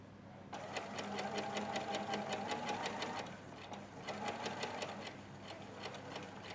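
A sewing machine stitches coat fabric along a back neck edge, running in two steady close bursts with a rapid regular needle rhythm and a short pause between them.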